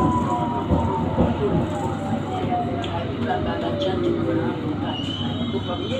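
A London Underground Circle Line train, S7 stock, running between stations near Blackfriars, with a steady loud rumble of wheels and motors and faint rail squeals throughout.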